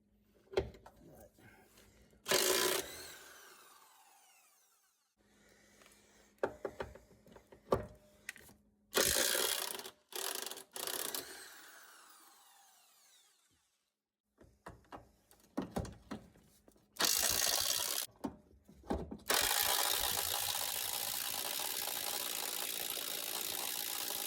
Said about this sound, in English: you need a 17mm socket. For that, it is 3 fastening bolts you need to remove.